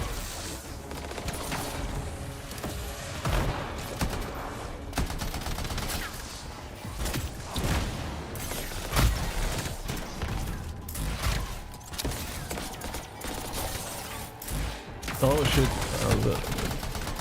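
Gunfire and grenade blasts from professional soldiers in the video game Anthem, dense bursts and thuds running continuously under excited talk, with a louder crackling volley near the end.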